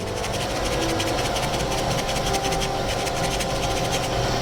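Béchamel sauce seasoned with salt and nutmeg being whisked in a pan: a loud, steady, continuous rasping scrape of the whisk against the pan, with no pauses and no voices.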